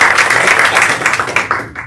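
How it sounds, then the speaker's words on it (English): Audience round of applause at a speaking event, loud dense clapping close by that swells and then thins out within about two seconds. "So round of applause if you are a professional speaker or you aspire to become a professional speaker of some sort."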